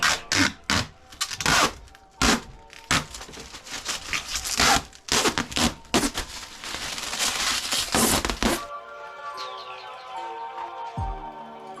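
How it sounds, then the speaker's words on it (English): Protective backing film peeled in quick bursts from a cut panel for a car audio boot build, a run of sharp tearing rips up close, ending in a quieter stretch of faint rustling. "We'll peel off protective backing on both sides."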